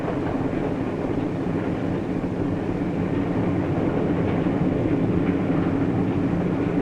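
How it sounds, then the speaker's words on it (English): A 1950s passenger train speeds along the rails toward dusk, a steady loud rumble and rattle of wheels on track continuing without pause. "While the train speeds into the dusk"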